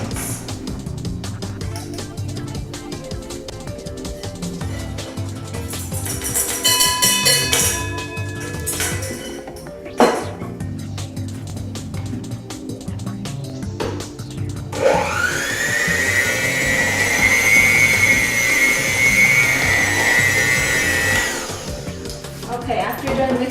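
Electric mixer blending dry ingredients into raspberry buttermilk muffin batter, a steady motor whir with a rising high-pitched whine in the later half, under faint kitchen noise.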